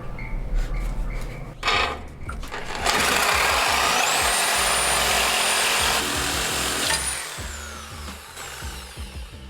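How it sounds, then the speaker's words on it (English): A Sawzall reciprocating saw buzzes through a cut, close and loud for several seconds after some handling clatter, then winds down into quieter knocks. "we'll probably just use a Sawzall and it will work"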